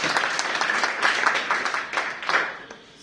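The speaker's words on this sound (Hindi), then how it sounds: "एक बार जोरदार तालियां।" An audience breaks into loud applause, a dense wash of many hands clapping in uneven surges that swell and fade over a few seconds.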